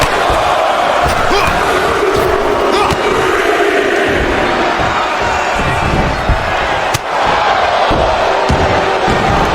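Arena crowd in the WWE 2K25 wrestling video game chants and roars as a steady, dense wall of noise from start to finish, with occasional thuds and a sharp slam near the seven-second mark.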